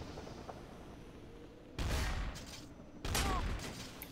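Gunfire in the video game Garry's Mod, Trouble in Terrorist Town mode: two separate bursts of rapid shots rise out of a quiet background, the second a little longer than the first.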